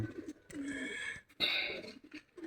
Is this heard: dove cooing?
yes